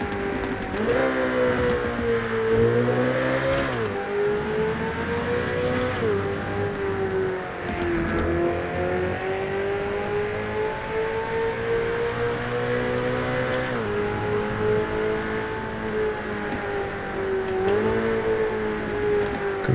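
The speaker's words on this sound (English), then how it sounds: "Ferraris have the most unique tones ever" Ferrari F8 Tributo V8 engine in GTA 5, droning steadily and loudly with rising and falling revs throughout, sustained harmonic tone shifting pitch as the throttle changes, no talking.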